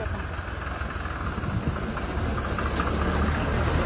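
A tractor engine idles with a steady low rumble at a loud, close, constant level, with no voices heard.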